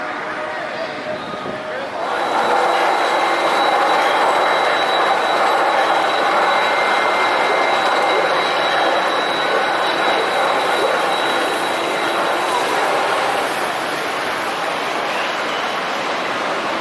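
A ride running at Kennywood amusement park in summer gives a loud, steady mechanical roar after a quieter start, with a thin high whine running through it, and the level holds almost flat to the end.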